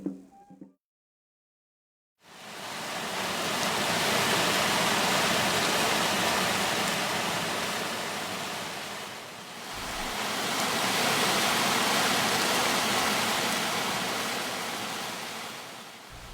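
Water from the Apuyayo mountain stream in the Andean highlands flows toward the community of Huito. After a brief quiet start, a steady, loud broadband rush runs unbroken, with a slight dip partway through and no voices.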